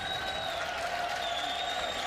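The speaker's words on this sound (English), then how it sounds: "Good to hear the crowd recognizing him." A baseball crowd at a Twins versus Red Sox spring game applauds Christian Vasquez coming up to bat, a steady wash of clapping and cheering from a distant crowd with no breaks.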